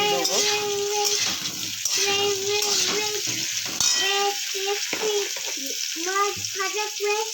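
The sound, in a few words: cauliflower frying in a pan for fish curry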